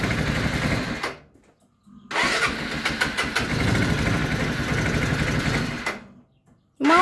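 A small rotary tiller engine cranks and catches, running in loud bursts that cut out twice into silence before firing again at the end, with no talking.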